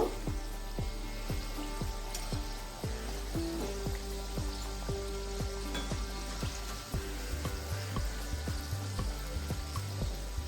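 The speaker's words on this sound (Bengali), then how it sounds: "তিরিশ সেকেন্ড ভেজে নেওয়ার পরে আমি এবার উল্টে দেব" Aloo kachori fry in hot oil over a low flame with a soft, continuous bubbling sizzle beneath gentle background music.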